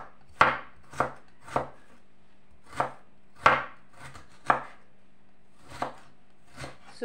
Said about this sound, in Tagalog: Pipinuhin ko lang ng maigi yung ating ginger para mas masarap